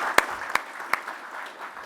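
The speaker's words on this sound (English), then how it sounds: "We'll give Leah a round of applause." An audience at a cybersecurity industry event claps for an organiser: a short burst of scattered applause with a few sharp, distinct claps standing out.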